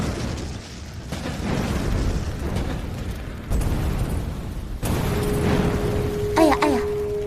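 Explosion sound effects for planted bombs on a Chinese mystery-solving variety show: several booming, rumbling bursts over a dense noisy background, with a steady tone and chirping electronic accents near the end.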